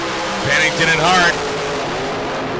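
Drag racing cars accelerate toward the finish line at the K&N Spring Fling Million, a sustained engine roar heard at a distance under a race announcer's commentary.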